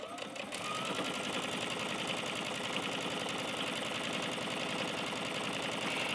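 Sewing machine stitching layers of a flannel baby quilt, running steadily at close range with a fast, even mechanical whir and rapid needle clatter after a short pause at the start.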